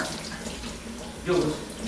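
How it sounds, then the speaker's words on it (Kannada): Dishes being washed under a running tap, with a steady close rush of water and a brief louder splash near the end. "ಎಂತ ಮಾಡುದು ಪಾತ್ರೆ ತೊಳೆಯೋದು"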